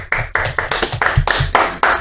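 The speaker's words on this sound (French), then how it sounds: "Déjà, ça s'applaudit," Hand clapping in a radio studio, about a dozen sharp, close claps in a quick uneven rhythm from a small group, loud and dry with no talking over them.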